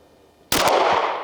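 A single sharp gunshot from a Heckler & Koch VP9A1K pistol at a shooting range, with a loud abrupt crack followed by a short ringing decay, with no talking.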